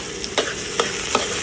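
Onion and garlic sizzle loudly in a hot pan, a steady hiss broken by three quick stirring scrapes.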